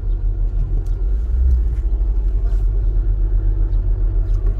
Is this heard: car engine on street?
yes